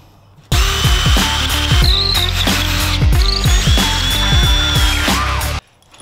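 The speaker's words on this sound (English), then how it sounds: "And then we can drill our other pilot holes." A power drill bores pilot holes for a DIY Jeep Wrangler door hanger, running in one sustained whine for about five seconds with rhythmic pulsing and pitch shifts as the bit bites, then stopping abruptly, close and loud with no speech.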